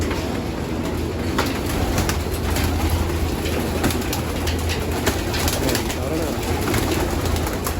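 Male homing pigeons, bluebar and white flights, are released outdoors, with flapping wings, cooing and a low rumble like a passing train underneath, steady and fairly close with no talking.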